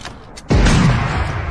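A cannon fires in PUBG Mobile: one loud, sudden boom with a deep low-frequency rumble after it, set against quiet game background noise.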